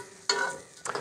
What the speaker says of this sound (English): I can hear the sausages are starting to cook over here, so I'm just gonna give them a little stir.